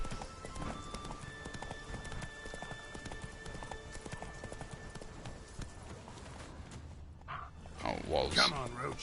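Roach, the horse in The Witcher 3: Wild Hunt, gallops in a race with quick rhythmic hoof clops at close range, mixed with game sounds and a player talking over it, and a louder burst near the end.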